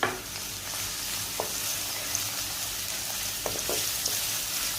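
Whole spices including black cumin, bay leaves and chopped green chilli frying in oil for rice, a steady soft sizzle with faint stirring clicks throughout, no talking.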